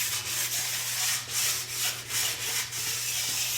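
Stone rubbed back and forth along the sidewall edge of a ski during tuning, with a steady gritty scraping hiss in repeated even strokes, close and fairly quiet, no voices.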